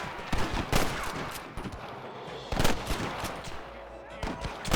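Gunfire aimed at rustlers in Red Dead Redemption: repeated sharp shots in rapid clusters, some close and loud, others further off, with a busy game soundscape filling the gaps.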